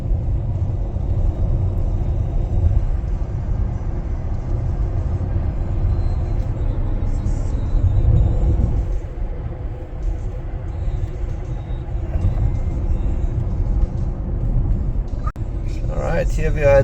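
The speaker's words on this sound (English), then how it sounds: "So we're taking the exit now to the supercharger." Tesla Model X Plaid rolling along a highway exit ramp toward a charging stop: a steady low road rumble and tire drone fills the cabin throughout, with a brief click near the end.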